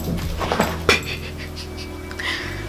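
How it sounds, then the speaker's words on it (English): A pet dog pants and whimpers close by in a quiet room, with soft breathy panting and a brief sharp yip-like burst partway through, no speech. "Hi, my dog is looking at me."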